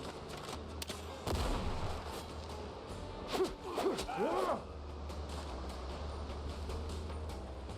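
Gunshots from the video game Windrose, a few sharp cracks and booms scattered over a low rumbling backdrop, moderately loud, with no speech.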